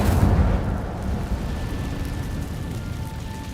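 The Incendio fire spell in Hogwarts Legacy erupts in a loud whooshing blast at the start and then settles into a steady rumbling roar of flame, with no voices.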